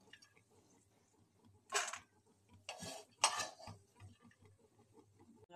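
Fried peanuts are scooped out of hot oil in a wok, giving three sharp metallic scrapes and clinks of a utensil against the pan over a quiet background.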